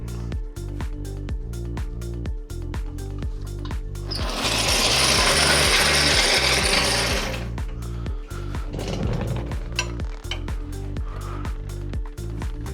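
A hand ratchet loosens a panhard bar bolt on an 80 Series 4x4, giving steady, close, rapid clicking throughout, with a louder, rougher burst of effort in the middle.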